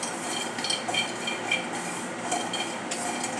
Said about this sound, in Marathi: अशा प्रकारे आपल्याला लो फ्लेमवर भाजून घ्यायचे आहे।